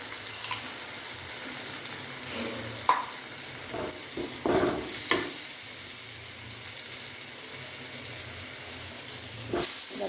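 Spice powders stirred in a hot pan, with a steady sizzle and hiss and a few scraping strokes of the spoon, close up and fairly quiet.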